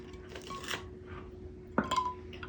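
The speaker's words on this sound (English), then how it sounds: "Now we need our ice cubes." Ice cubes clink and drop into a glass while a cocktail is being mixed, faint light chinks followed by one sharper clatter of ice against glass in a quiet room.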